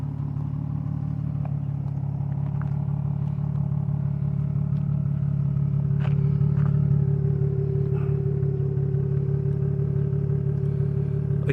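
Nissan 350Z with resonator and muffler delete idling, a steady deep droning exhaust rumble close by with faint clatter over it and no voices.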